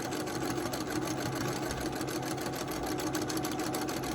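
A sewing machine runs steadily at speed while free-motion quilting circles, its stitching a fast, even mechanical chatter held close and loud throughout, with no voices.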